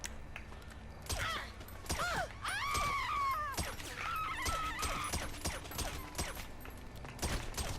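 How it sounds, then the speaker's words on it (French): Rapid vintage pistol shots in GTA V Online, loud sharp bangs in quick bursts mixed with game groans and cries. "Et maintenant, pistolet vintage."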